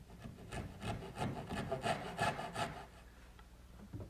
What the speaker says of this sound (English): I'm going to use my little dovetailing saw